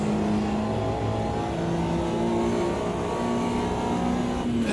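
A Mini Cooper race car in the AMS2 racing game at Brands Hatch accelerates gently out of a turn, its engine holding a steady, moderately loud rising drone without talk.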